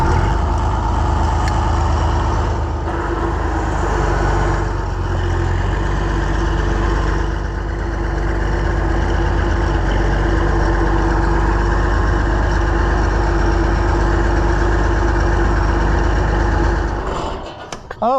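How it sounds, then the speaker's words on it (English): An Oliver 1755 tractor engine idles close by, a loud, steady low rumble that holds evenly for most of its length before cutting off abruptly at the end. "Oh, I forgot how much I like this tractor."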